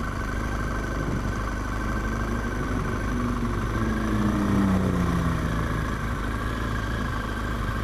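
Motorcycle engines idle together at a busy Sunday bike meet in Matlock Bath, a steady blended rumble with one bike revving briefly in the middle over the crowd's background hum.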